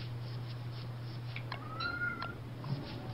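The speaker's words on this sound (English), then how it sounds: "I hear a cat." A cat meows in the video game Don't Starve Together, a single drawn-out rising mew over a steady low hum and faint game ambience.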